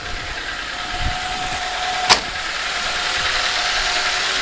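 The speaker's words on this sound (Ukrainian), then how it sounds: "холості у нас близько тисячі" A VAZ 2107 car engine idles at about a thousand rpm, a steady, close hum with one brief sharp click partway through and no speech.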